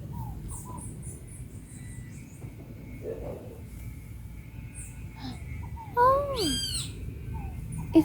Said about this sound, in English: There's a beautiful bird in the sky.